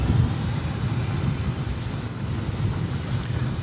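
An American Airlines Boeing 787-9 at DFW airport rumbles steadily as a low, broadband jet roar with wind buffeting, moderately distant and unbroken.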